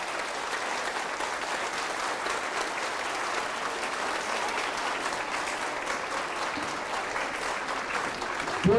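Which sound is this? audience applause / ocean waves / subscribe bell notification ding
audience applause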